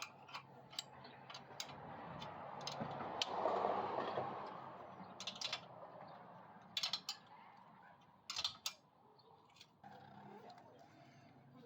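A wrench tightens a bolt snug on a Coleman CT200U-EX trike exhaust, giving quiet ratcheting clicks and small metallic ticks in short bursts over a soft background rumble.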